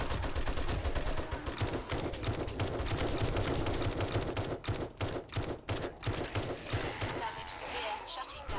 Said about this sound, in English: I'll be glad when soldier boys aren't shooting at me.